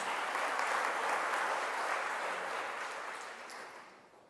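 A church congregation applauds after a sermon reading, making a steady, full hiss of many hands clapping together that holds for a few seconds and then gradually fades away.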